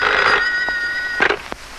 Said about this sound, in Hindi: आपके लिए फोन सुरेश अखबार वाला।